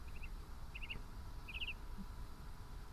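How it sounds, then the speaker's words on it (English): Faint, quick trilled bird whistles sound in short bursts of three or four notes, repeating three times over a low ambient wilderness hum in the Outlaws video game. "Little bird whistle."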